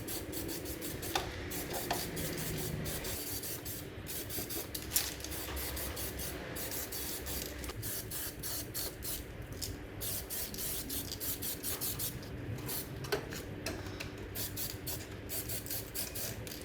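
Spray gun steadily hissing paint onto a Ford Falcon XE, a continuous broadband spray held for the whole stretch, with faint scraping and rubbing handling noises now and then and no talking.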